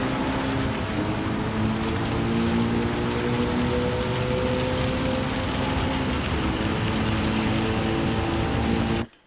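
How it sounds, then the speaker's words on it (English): Heavy rain pours across a race track in Gran Turismo 7, a dense, steady hiss that stays constant throughout, with a car engine droning underneath. "And this first lap, it's quite heavy rain."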